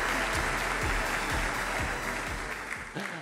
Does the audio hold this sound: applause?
yes